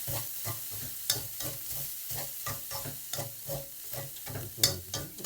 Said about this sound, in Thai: ใส่ต้นหอมซอยผัดสักสี่ห้าวิปิดแก๊สเลยครับ